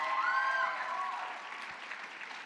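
Applause from an audience for a solo cosplay contestant at the Japan Impact 2025 convention, a moderate wash of clapping that slowly fades, with a faint tonal ringing over it.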